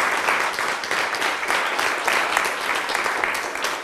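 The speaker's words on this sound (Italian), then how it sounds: "un bel applauso, mi sembra doveroso" Applause from an audience at an Italian school event, a dense, continuous wash of clapping from many hands, loud and even throughout with no talk over it.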